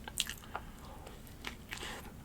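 A person chewing a McDonald's hamburger up close, with a few soft squishy bites and muffled smacking sounds at an irregular pace and quiet room noise between them.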